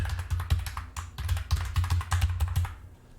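Fast, steady typing on a computer keyboard as a password is entered, with dense clicky keystrokes up close and a low hum underneath, ending in a brief quieter pause.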